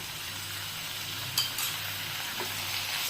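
Chopped tomatoes frying in a pan with ginger-garlic paste for street-style cheese masala pav: a steady close sizzle throughout, with a brief clatter of a spoon stirring partway through and no talk.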